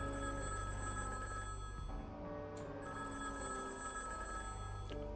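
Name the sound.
telephone ringing, from the video game Higurashi When They Cry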